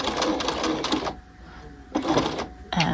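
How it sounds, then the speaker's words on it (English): A sewing machine runs a lock stitch while sewing a half-scale jacket, two quick rattling bursts of rapid stitching separated by a brief pause, close and clear. "I can go a little bit past, and then I'll do another lock stitch"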